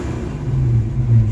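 Ford Mustang project car with custom black tailpipes and mostly fixed exhaust leaks, engine idling and revving in a steady loud low rumble, with no backfire.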